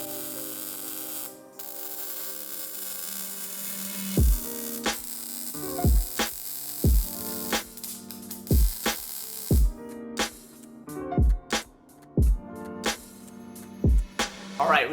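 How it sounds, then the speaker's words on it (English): A roll bar gets welded into a mini Jeep roll cage, a steady electrical buzz and hiss broken by short crackling bursts that start and stop in an irregular rhythm, close and fairly loud. "It's just time to weld it in, and then we'll have a pretty solid roll cage."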